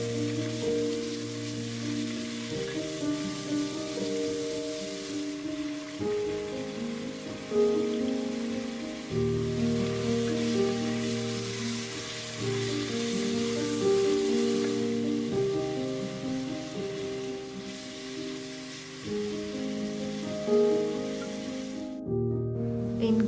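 Stuffed brinjals and vegetables fry in oil for Surti undhiyu, a steady soft sizzle under a sustained background of melodic music, with no talking.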